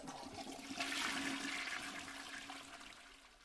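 A toilet flushing in the horror game Baby in Yellow: a single close, rushing swirl of water that swells for about a second, then slowly drains away, with no talk over it.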